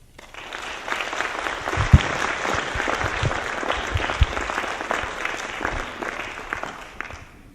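Audience applause welcomes a speaker to the stage at an award ceremony, a steady, full round of clapping from a crowd lasting several seconds without pause.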